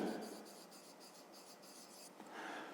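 Pen or pencil scratching on paper while a fifth-grade math exercise is worked out, a soft, continuous rhythmic rubbing of short strokes, close and quiet, with no voices.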